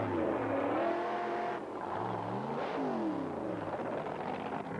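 Two 1980s Australian drag racing cars built on stock production bodies such as the Z28 Camaro launch and accelerate down the strip, engines rising in pitch and roaring continuously and loudly throughout.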